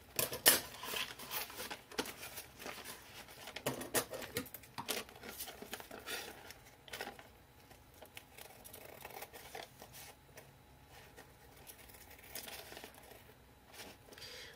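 Scissors cutting paper for a crafting project, with a run of crisp snips and crinkling handling sounds that are busier at first, then thin out into quieter, sparser rustling, close and fairly faint.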